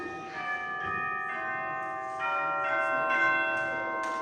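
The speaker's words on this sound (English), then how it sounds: "August in the back is going to demonstrate the chimes." Orchestral chimes struck by a member of a school band during a Christmas concert, a series of clear ringing metallic tones, each strike layering over the previous one's lingering resonance, played alone without talk.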